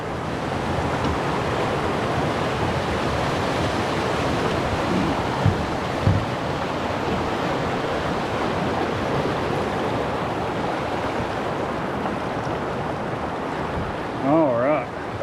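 Strong current of the Toccoa River heard from a canoe, a loud continuous rushing wash of water with wind buffeting, and a brief voice near the end.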